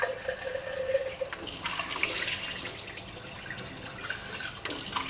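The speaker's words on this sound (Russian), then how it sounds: "начинаю промывать эту баночку" Tap water runs steadily into a jar of milk kefir grains being rinsed, a close, continuous splashing stream with small bubbling shifts and no voices.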